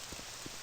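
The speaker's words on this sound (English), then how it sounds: "Oh, it's raining." Rain falls in The Elder Scrolls III: Morrowind as a quiet, steady hiss of wide, even noise, with a few soft low thuds, all in less than a second.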